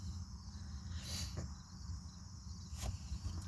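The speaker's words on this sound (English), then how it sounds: "And you can hear all the crickets." Steady chorus of crickets chirping continuously in the background, a dense outdoor insect drone with a couple of brief louder bursts.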